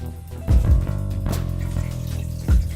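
Vegetable broth pouring into a pot on the stove, a steady liquid splash with a few louder gurgling surges, close and alone.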